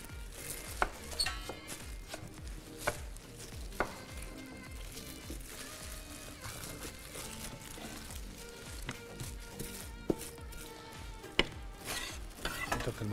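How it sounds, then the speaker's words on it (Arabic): Onion being chopped quickly on a board for an Iraqi dish, a dense run of rapid knife taps over steady kitchen clatter with occasional sharper knocks, close and moderately loud. "احنا نبدا نقطع البصل تقطيعه سريعه مثل ما تشاهدون"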